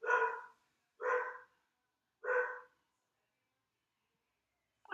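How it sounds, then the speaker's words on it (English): A dog barks three times in quick succession, loud and close, each bark about a second apart, followed by silence. "my dog's done barking at something"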